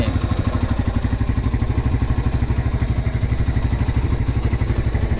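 A 1997 Honda GL Pro Neotech motorcycle engine idles steadily up close, a low, even chug with rapid rhythmic pulsing and a faint rattle running throughout.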